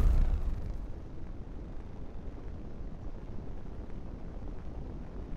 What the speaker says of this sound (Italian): Motore a impulso